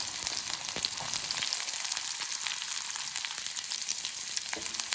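Onion frying in hot oil in a kadai with mustard seeds and urad dal, a steady broadband sizzle with crackling pops, close and continuous throughout without any voices.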